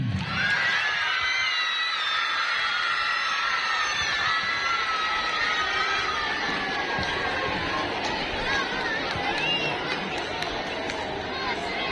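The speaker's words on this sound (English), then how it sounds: "Please give a huge round of applause for our aliens and the team" At a school Children's Day event, a large audience of children cheers and shouts without a break. The dense crowd noise holds at a steady loud level throughout.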